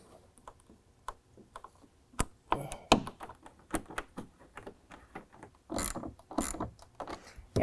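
Push pin and factory bolt go back into a Ford F-150 fender, heard as a string of close, sharp clicks, taps and ratcheting snaps with short pauses between them and no talking.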